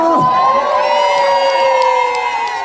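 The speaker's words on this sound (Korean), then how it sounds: "큰 박수 한 번만 주세요" A crowd at the Ulsan Bonggye Hanwoo beef festival concert cheers loudly for a singer, a sustained wall of shouts and whoops close by, with a few sharp accents riding on top.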